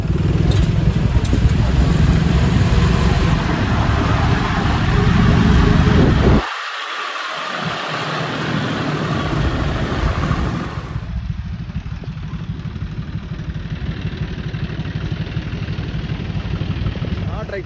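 A John Deere 5310 tractor without four-wheel drive, hauling a loaded trolley, rumbles with a steady engine drone. The engine note shifts partway through, and talk may run beneath it.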